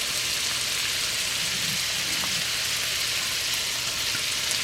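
Green onions and pork stir frying in a pan, a dense, steady sizzle with a crackling hiss that stays loud and even throughout, with no voices over it.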